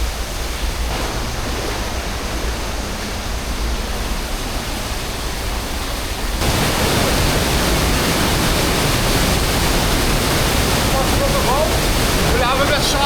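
A waterfall on Lombok island roars as a loud, constant rush of falling water, growing heavier and closer partway through, with faint voices in the background.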